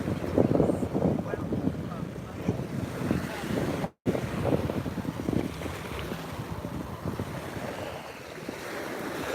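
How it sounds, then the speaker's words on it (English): A loud boat engine drones nearby off Sanibel at sunset, amid wind buffeting the microphone and lapping water, a steady rumble that fades slightly toward the end. "That boat is pretty loud."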